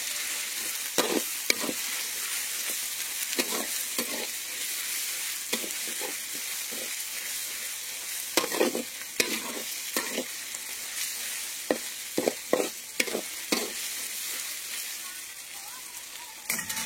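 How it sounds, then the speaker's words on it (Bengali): Ginger and garlic fry in a pan with a constant bright sizzle, punctuated by repeated scraping stirs and spatula knocks, close and loud without any talking. "মোটামুটি আদা রসুনটা ফ্রাই হয়ে এসছে, ভাজা হয়ে আসছে।"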